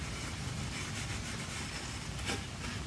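Polyethylene plastic being scuffed before painting produces a continuous close, rough rubbing hiss with no pauses or talking.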